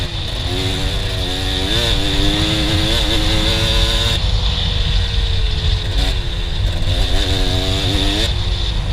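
Dirt bike engine racing around a sandy, rocky motocross track, loud and close, revving and easing off repeatedly with constant wind noise over the exhaust.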